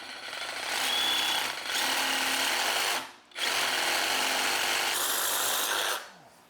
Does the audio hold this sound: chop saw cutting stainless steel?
yes